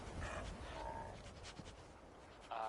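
The dog companion Dogmeat in the video game Fallout 4 pants and whimpers softly in short breathy bursts, faint and close, with no talk over it.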